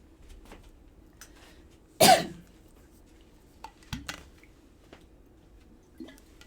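A single sharp cough stands out in a quiet room, followed by a few softer throaty sounds and small scattered noises.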